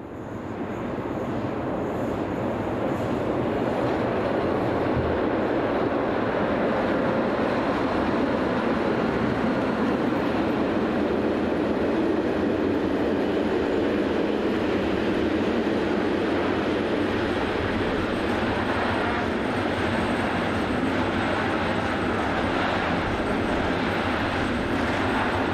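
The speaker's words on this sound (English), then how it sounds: "These are hauled by dedicated Class 151 electrics fitted with automatic couplers, such as this train powered by 151-100 and 104" A heavy iron ore train with automatic couplers, hauled by Class 151 electric locomotives 151-100 and 104, rolls past in a steady, continuous rumble and roar that holds loud and unbroken throughout.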